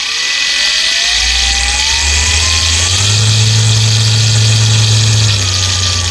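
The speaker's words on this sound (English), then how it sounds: "let's start it and see what it sounds like when we rev the RPM on it" A 5-inch professional polisher spinning up, a loud, close motor whine that climbs steadily in pitch as the speed rises, then holds a strong steady drone before easing slightly.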